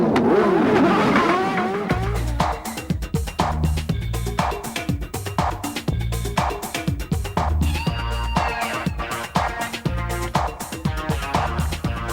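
Several 1994 IndyCar race car engines fire up and rev hard together, a dense, loud and continuous roar with rapid stuttering throttle blips and rising whines layered throughout.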